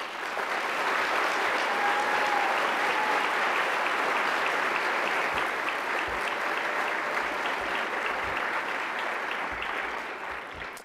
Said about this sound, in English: But I think Marion Adams just deserves a huge round of applause.